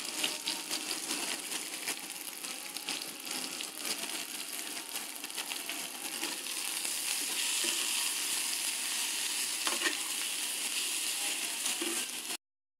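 Rohu fish with turmeric frying in a pan gives a continuous close, moderately faint sizzle with scattered crackles and spatter pops, building slightly before cutting off at the end.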